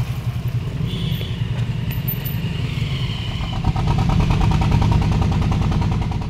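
A boat engine on a river crossing drones steadily and close, a low chugging mechanical hum that grows slightly louder and more rhythmic partway through, with no talk over it.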